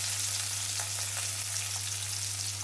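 Shallots, curry leaves and a dried red chili sautéing in a pan give off a constant, even sizzle with a few faint crackles and a low background hum. No one speaks.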